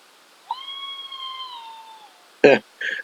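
A coyote howl sped up in Audacity so it sounds like a kitten: one long, thin, steady high cry that slides slightly down, followed by two short, sharp bursts of sound.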